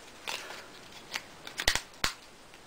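A few small plastic clicks and snaps come from the back cover of a Palm Treo 500 phone being pressed into place, sharp and close against quiet room tone.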